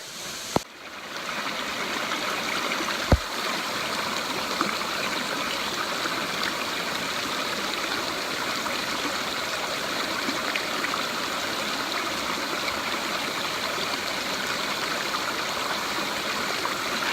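A mountain stream and waterfall on a spur trail rush in a steady, dense wash of water, close and constant for the whole stretch, broken only by a couple of brief knocks near the start.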